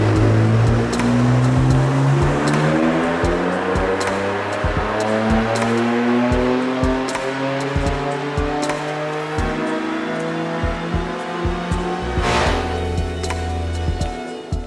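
A tuned, track-prepped BMW F80 M3 with breathing modifications pulls hard through repeated gear changes, its loud engine climbing in rising sweeps with crisp shift cracks between them, close and without talk.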